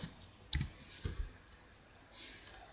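Computer mouse clicking in Microsoft Word while inserting citations, a few faint, sharp clicks spaced irregularly over quiet room noise.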